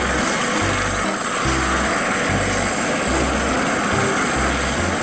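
A loud, steady engine drone with a chopping, pulsing low rhythm, like a helicopter's rotor close by, continuing without pause.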